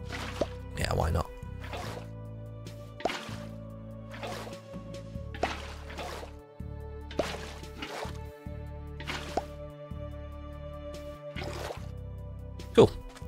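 Minecraft water being placed to fill a container, repeated dripping, sloshing liquid sounds recurring every second or so over a steady low background tone, with a voice talking throughout.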